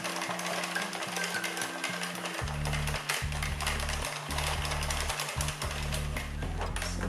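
Addi Express knitting machine cranked back and forth, a busy rattling, clicking mechanical chatter with a rhythmic low thumping pulse, steady and close throughout with no talk.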